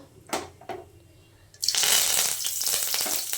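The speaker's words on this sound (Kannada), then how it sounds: "ಇದಕ್ಕೆ ಸ್ವಲ್ಪ ಸಾಸಿವೆ ಹಾಕೋತಾ ಇದ್ದೀನಿ. ಈಗ ಸಾಸಿವೆ ಹಾಕಿದ್ಮೇಲೆ ಕರ್ಬೇವಿನ ಸೊಪ್ಪು ಹಾಕೋತೀನಿ." Mustard seeds and curry leaves hit about four spoons of hot oil: a couple of brief taps, then a sudden loud, close crackling sizzle that keeps spitting steadily to the end.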